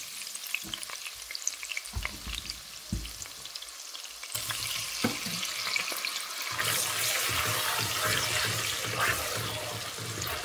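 Grated onion hits browned garlic in a hot pan and sizzles loudly and steadily, with occasional stirring scrapes, close up and building as the cooking goes on, with no talking.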